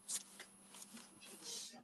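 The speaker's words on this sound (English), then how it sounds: "These ones shuffle so freaking nicely, Gala." Green Witch tarot cards are shuffled in short, soft riffling bursts at close range, faint and brief.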